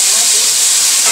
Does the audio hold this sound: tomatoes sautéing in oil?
yes